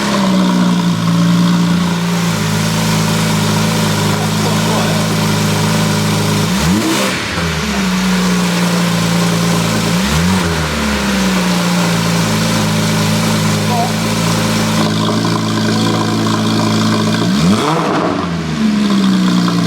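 A Porsche 911 GT3 997.2 engine fitted with an Inconel exhaust idles loud and close with a steady low drone, interrupted by three quick blips that rise and fall in pitch.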